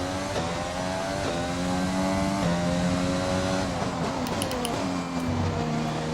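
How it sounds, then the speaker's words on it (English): A race car in F1 2020, a team car in green and gold livery, heads out on track: a loud, steady engine drone with layered tones that climb and shift as it accelerates through the gears, with no talk. "Car heading out now,"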